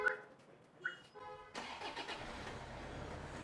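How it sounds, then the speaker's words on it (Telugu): After a few short electronic beeps, a Toyota Innova fitted with a smart key kit cranks and fires up, then runs at a steady, moderately loud idle. "ఈ స్మార్ట్ కిట్ తోటి కూడా మనం బండి స్టార్ట్ చేయొచ్చు"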